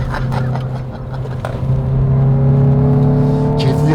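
A Hyundai i20 N on a track accelerates hard, its engine note rising steadily and getting louder, close and dominant inside the car, with a brief voice early on.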